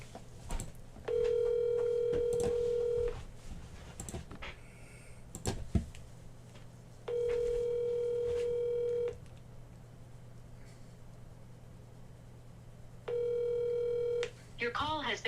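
A telephone call rings out in repeated long tones with pauses between them, three rings over a low steady hum before the line forwards to voicemail.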